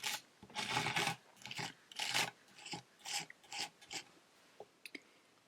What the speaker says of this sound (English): So I'm just gonna spatula that on.